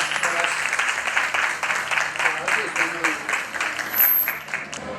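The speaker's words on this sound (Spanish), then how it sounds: "Un aplauso para él" Audience applause at a food festival in A Coruña, an uneven patter of many hands with audible individual claps, a little speech-like sound mixed in and a short high tone near the end.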